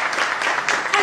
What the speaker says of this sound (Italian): un applauso davvero